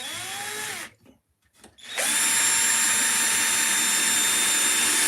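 A power drill bores holes into wood for a woodcarving job, whining steadily in two bursts separated by a brief pause, loud and close with no talking.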